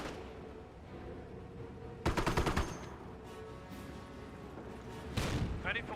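Gunfire in the Company of Heroes real-time strategy game, a sharp rattling burst of rapid shots followed later by another volley, with a commentator's voice talking underneath.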